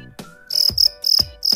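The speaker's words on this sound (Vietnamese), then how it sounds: "con dế này nó lột xác khoảng 4 ngày là mình nó biết gáy rồi" A young fighting cricket being trained for combat gives four loud, close, shrill chirps in quick succession, each a short buzzing trill with brief gaps between.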